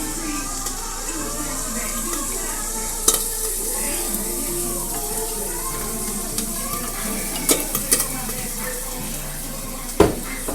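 Vegetables go into a hot pan for a creamy sausage pasta, producing a constant sizzle with occasional sharp utensil knocks and clatters, close up with a low background hum.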